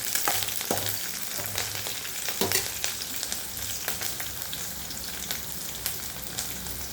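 Onion and garlic sautéing with curry leaves in a pan for a home-style kuzhambu, a steady close sizzle with crackles and a few utensil scrapes and knocks, no speech.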